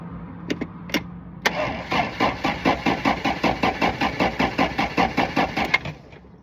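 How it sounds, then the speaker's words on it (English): A truck engine cranks on a jump start, with two quick clicks followed by a steady, rapid rhythmic chugging of the starter that runs loud for about four seconds and then cuts off. "It's turning the engine."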